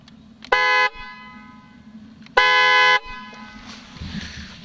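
Two loud, blaring blasts from an upgraded motorcycle horn sound close by, each about half a second long and separated by a short pause, over a low idling engine.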